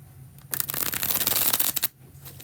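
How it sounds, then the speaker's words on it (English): A deck of cards riffles through a bridge shuffle in one quick, close, crisp burst of flicking that ends with the cards settling, with no talk. "This is the second and last bridge shuffle."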